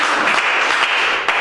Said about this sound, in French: Est-ce qu'on peut acclamer très fort ici?